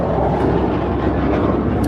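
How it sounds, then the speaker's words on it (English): A jet aircraft passes directly overhead, a loud, steady broadband roar filling the whole stretch without pause, close and dominant with no talk over it. "There's a jet going by right now,"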